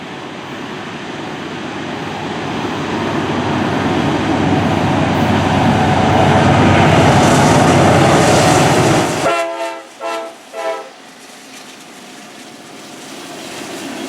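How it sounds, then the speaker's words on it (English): Northbound CSX freight train led by locomotives 7771 and 4569, a loud steady rumble of rolling cars building up over several seconds, then cut short by bursts of a blaring horn. "we then caught a northbound freight train being led by CSX 7771"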